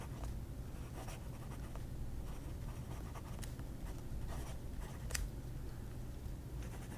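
Fountain pen with a Bach nib scratching across paper, faint close strokes with soft scratchy bursts at an irregular handwriting rhythm over quiet room noise, no talking.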